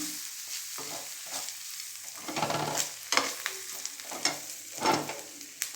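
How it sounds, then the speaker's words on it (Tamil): Ground spices frying in a pan for sundal crackle and sizzle softly while being stirred, with repeated scraping strokes at a fairly quiet, close level. "இதை எடுத்து நல்லா ஃப்ரை பண்ணிக்கலாம்."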